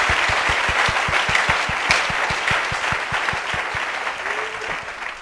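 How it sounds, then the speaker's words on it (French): A church congregation breaks into steady, brisk applause for a married couple, many hands clapping in a quick, even rhythm that fills the room and slowly fades, with a faint voice briefly heard beneath. "Acclamez pour eux."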